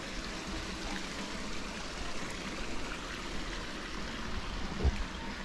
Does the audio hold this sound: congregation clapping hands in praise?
no